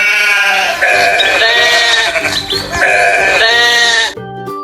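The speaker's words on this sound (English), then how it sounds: "Sheep." A sheep on a farm bleats twice in long, wavering cries, loud and close, with a short pause between them.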